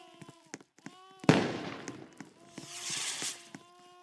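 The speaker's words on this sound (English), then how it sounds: "Ooh, this fireworks show." Fireworks show on the 4th of July seen from a daycare, with one loud burst, then a crackling spread and faint pops, and distant whistling tones between them.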